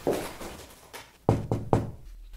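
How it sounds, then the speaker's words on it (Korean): Knocking on a classroom door: a few soft taps, then three firm, evenly spaced knocks that ring close and clear in a quiet room. "화벽이 교실 문을 두드린다."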